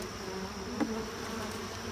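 Honeybees buzz steadily and close by during a hive inspection, a continuous droning hum from many bees with no talking.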